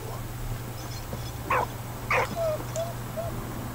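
Dog barks in the video game Valiant Hearts: two short bursts of barking, a couple of small whines, set over a steady low game hum with no talk.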